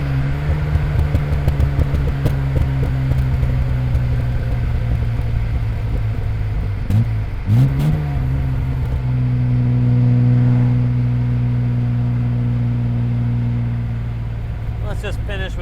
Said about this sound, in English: let's just finish with a curvy acceleration from almost 0